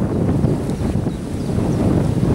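Wind buffets a microphone outdoors near a chapel, giving a loud, continuous low rumble with uneven gusty surges throughout. No voices are heard.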